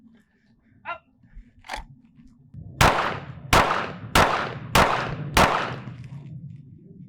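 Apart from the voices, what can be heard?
one-handed handgun shooting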